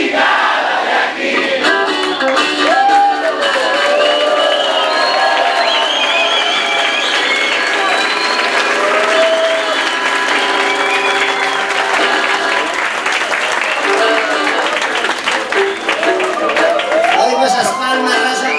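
A concert crowd at a rock show in Mexico City's Fonoteca Nacional claps and cheers steadily, a loud, dense wash of applause with scattered shouts and whistles that continues throughout.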